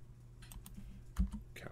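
Short burst of typing on a computer keyboard while entering a password, several quick close key clicks, alone without talk.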